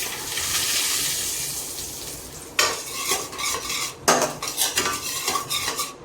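Semolina for rava kesari is roasted in a pan, stirred with a metal spoon that scrapes and clinks against the pan in sharp bursts over a steady dry hiss, with no talking.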